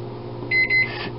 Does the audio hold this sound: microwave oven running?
yes